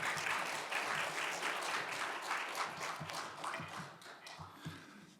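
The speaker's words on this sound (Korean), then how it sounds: "우리 박수로 환영하시겠습니다" Congregation at a Baptist church service applauds to welcome a guest reverend to the pulpit, steady dense clapping that gradually thins and fades toward the end.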